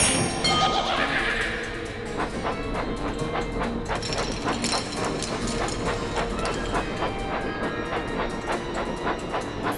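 A toy train engine in a video game chugs along with rhythmic clickety-clack and a hissing rumble, a busy mechanical clatter that continues steadily throughout.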